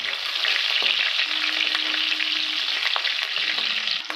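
Mustard seeds, fenugreek, peppercorns, cumin and green chillies tempering in hot oil make a loud, close crackle with scattered sharp pops, and a faint hum runs beneath for a moment.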